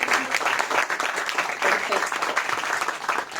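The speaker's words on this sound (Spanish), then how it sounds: "Les damos un fuerte aplauso a Mauricio" Strong, dense applause from an audience at a talk show or interview, steady and loud throughout with continuous clapping and no break.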